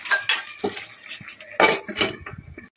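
Metal pot lid set back onto a cooking pot of simmering shukto vegetables, a few close clanks and scrapes of metal on metal against quiet kitchen background.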